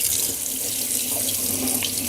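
Tap water running steadily into a sink to rinse the curing salt off capicola meat, a constant close splashing hiss with slight shifts as the meat is moved under the stream.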